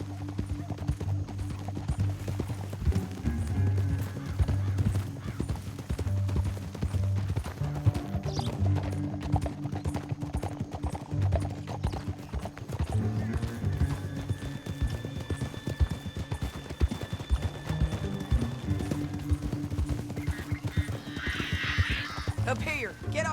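Horses gallop in the video game Red Dead Redemption 2, a dense, continuous drumming of hooves that stays loud throughout, with occasional snorts and voices talking over it.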